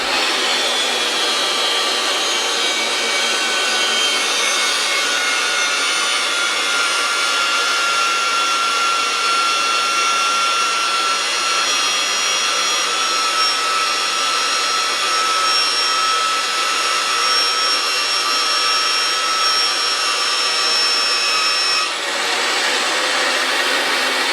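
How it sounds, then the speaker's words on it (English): A RIDGID 300 pipe threading machine runs with its die head spinning as it cuts a thread on oiled pipe, a loud, constant mechanical whir with a high whine that holds steady throughout. "So we're going to slide our die head in with the lever arm, get it spinning."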